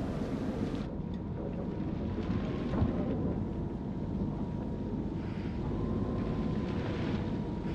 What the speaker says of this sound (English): to storm aa raha hai